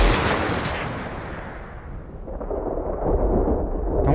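A single heavy gunshot boom with a long rumbling tail that fades and swells slightly, loud and close.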